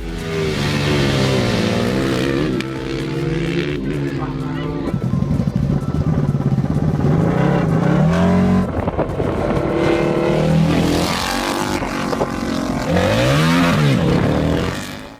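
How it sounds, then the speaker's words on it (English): A homemade racing car with a 30 cubic inch four-stroke engine, racing wheelbase and smooth tyres revs loudly, its engine pitch rising and falling in repeated sweeps, with a voice talking over it. "The finished model has a racing wheelbase, smooth tyres, and a 30 cubic inch 4-stroke engine."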